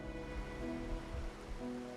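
Rain falls steadily in the video game Wuthering Waves, a soft, even patter that stays faint and continuous throughout, with no voices.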